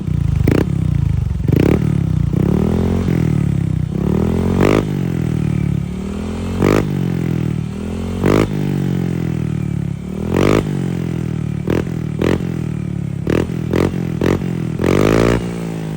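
A Honda Click scooter with an aftermarket power pipe exhaust revs repeatedly, each sharp throttle blip rising and falling over a throaty idle, loud and close, with no talk.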